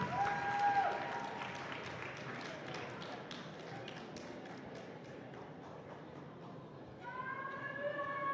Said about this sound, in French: Oui, vous pouvez applaudir.